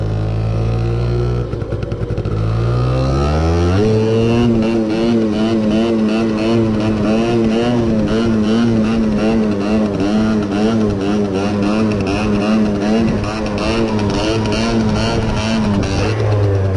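A Honda moped with a full stock engine revs hard during a wheelie, a loud buzzing two-stroke wail that climbs in pitch, then holds high with a wavering, uneven throttle for a long stretch, close and continuous.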